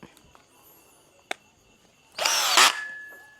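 A DCA ADJZ1202 12V cordless three-mode drill drives a screw on its lowest clutch setting. One loud, close whirring burst of about half a second comes near the end, after a quiet stretch with a few small clicks.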